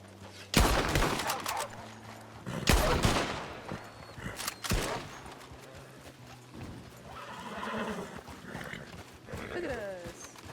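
Gunfire in a Red Dead Redemption 2 roleplay game: several loud, sharp shots spaced a second or two apart, each echoing away, then a horse neighs near the end as voices talk through the scene.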